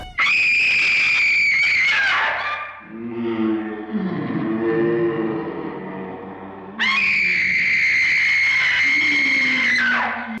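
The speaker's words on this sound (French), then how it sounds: "Des cris stridents, des gémissements fantomatiques et des gros plans assez glauques sur la tête des personnages" Shrill, sustained screams from a Vincent Price horror film, loud and close, with a lower ghostly moaning passage between two long screams, heavily reverberant and eerie.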